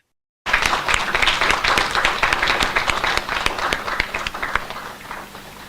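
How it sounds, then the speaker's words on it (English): An audience applauds at an awards ceremony for a competition winner, a dense, steady wash of many hands clapping that starts abruptly, stays loud and slowly tapers off. "A round of applause for Nayan Joseph."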